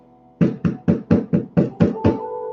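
Eight firm knocks on a door in an even rhythm, close and loud, with a faint tone underneath.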